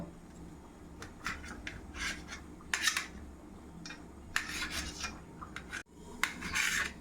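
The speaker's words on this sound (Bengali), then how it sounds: "এবারে পনিরটা আমি কেটে নেব ছোট ছোট কিউব কিউব করে কেটে নেব" A knife slices paneer into small cubes on a cutting surface, giving a string of short, crisp scraping strokes in uneven bursts against a quiet kitchen background.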